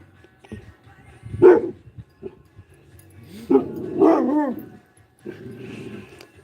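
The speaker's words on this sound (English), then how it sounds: "there's a car out there on the road. And that's what they're barking at." Dogs at a campground bark at a passing car in several loud, close bursts with short pauses between, one volley followed by a longer run of yips and barks.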